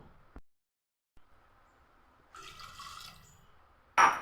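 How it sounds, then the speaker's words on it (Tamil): Water poured into a pan while making upma, heard as a faint trickle with a brief louder splash near the end; no voices. "இன்னும் 1/2 டம்ளர் ஊற்றிக்குவோம்."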